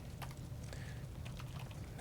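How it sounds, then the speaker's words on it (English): Quick clicks of typing on a computer keyboard, several scattered keystrokes tapping out an irregular rhythm at close range over a faint background hum. "so I'm always going to be typing Mike"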